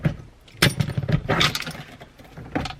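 A BMW E28 automatic shifter is tossed into a trash bin, landing with a few clattering knocks and metallic clinks over a couple of seconds, close by and moderately loud.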